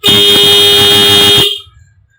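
A loud, heavy blast from a 12-volt Denso car and motorcycle horn holds steady for about a second and a half, then cuts off, leaving a faint low murmur.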